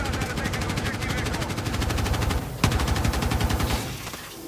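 RPK machine gun firing in a video game, long sustained bursts of rapid automatic fire with a sharp crack partway through, continuing before easing off near the end.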